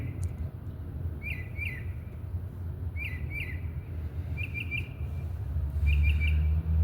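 Bird-like chirps from an artificial bird-calling device, sounding as paired, sharp tweets in short bursts over steady low background noise, fairly faint and distant.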